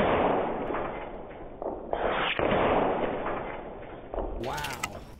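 A Skout Epoch .30 caliber PCP air rifle fires outdoors at eggs, giving a few sharp, near pops amid steady background noise, with a person talking around the shots.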